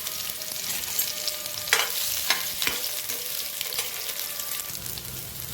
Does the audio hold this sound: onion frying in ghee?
yes